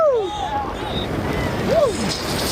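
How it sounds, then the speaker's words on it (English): Wind rushes and buffets against the microphone on a roller coaster at Six Flags Darien Lake while riders whoop and shout over the roar. "It's windy."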